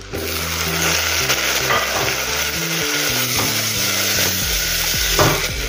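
Ginger-garlic paste sizzles and fries steadily in a pan for chana masala, with a spoon stirring and scraping throughout, close and loud with no talking.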